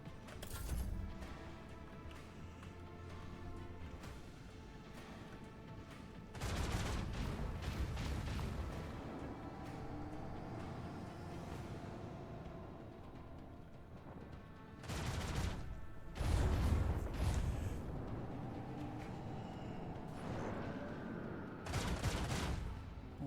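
Gunfire in the video game Rogue Trader comes as several loud bursts of shots and booms separated by stretches of ambient game rumble.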